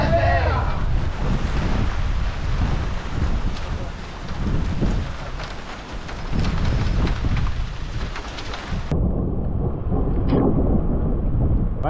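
Cold rain pours down steadily with gusting wind buffeting the microphone, a loud continuous wash of noise that drops and changes character near the end.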